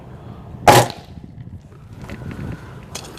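A single sharp crack from a Gamo Black Fusion airgun firing a 16-grain pellet, loud and close, followed by faint quiet clicks and handling.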